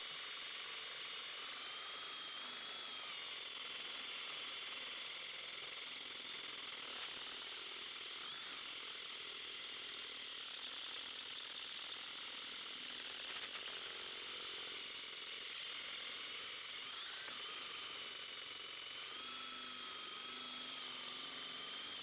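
Faint, steady rapid hammering of a Makita impact driver with a hex masonry bit boring into a chunky piece of masonry, a continuous buzzing rattle heard from some distance.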